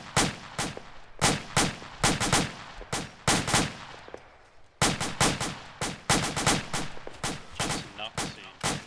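Rifles fire during an infantry fire team exercise, a dense run of loud, sharp shots in rapid bursts and overlapping volleys, with a short lull partway through before the shooting resumes.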